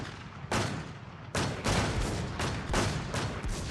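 Gunfire in an online shooter video game: a few loud sharp shots followed by a rapid string of heavy booming reports, close and dense, with no talk over them.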